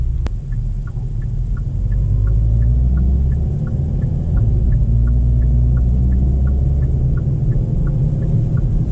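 A 2021 Hyundai Veloster N in sport mode gives a loud, steady low engine rumble and drone from inside the moving car, with a faint rhythmic ticking throughout.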